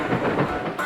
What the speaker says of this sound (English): This is the sound of train wheels passing over the join between one rail and the next.